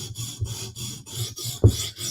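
A knife blade strokes across a coarse 150 grit sharpening stone in steady back-and-forth rasps, about seven passes with a brief heavier scrape near the end, close and alone.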